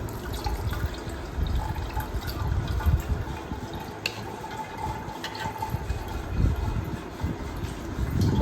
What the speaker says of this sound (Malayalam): ഇത് തന്നെ അരിശി ഭരണിയിലേക്ക് ഒഴിക്കാം